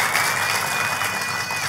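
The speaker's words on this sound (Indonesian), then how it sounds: "Tepuk tangannya boleh yang paling meriah buat Tuhan kita." Church congregation applauding during a divine healing sermon, a dense steady wash of clapping with crowd noise throughout, loud and close, with a faint sustained tone running underneath.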